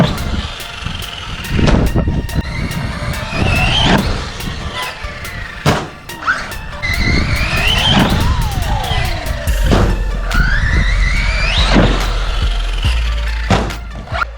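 A Team Associated Rival MT8 RC monster truck on 4S power whines and revs in sharp rising and falling bursts, with thumps from jumps and landings, loud and close throughout.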